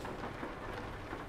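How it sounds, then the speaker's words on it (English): Steady rain patters across a vehicle in Euro Truck Simulator 2, a dense even wash of drops with a low rumble underneath, constant and fairly close. "But as you can see, we still get rain."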